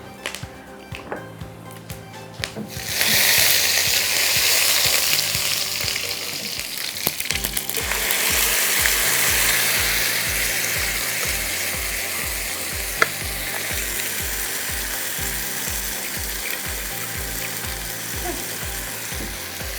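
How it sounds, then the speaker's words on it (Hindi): Ground onion, ginger, garlic and black pepper masala drops into hot oil with a sudden loud sizzle that settles into a strong, continuous frying hiss with rhythmic stirring, close and dominant throughout. "जैसे ही वो सिजल हो जाए तो हमने इसमें ये मसाला जो हमने पीसा है, प्याज, अदरक, लहसुन, काली मिर्चें, ये हम डालेंगे।"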